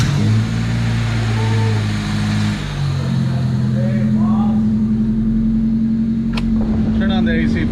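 A 1999 Honda Civic Si engine idles steadily right after its first startup, a constant low hum running throughout, with people talking over it and a brief sharp sound near the end.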